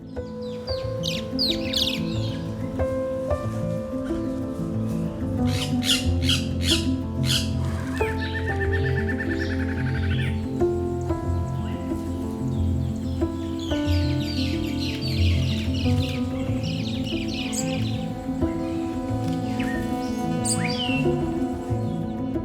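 Resident jungle birds call nonstop in a loud, busy chorus of squawks, chirps and clucking cries, layered near and far over steady forest ambience.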